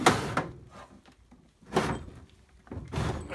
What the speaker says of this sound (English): heavy drawer.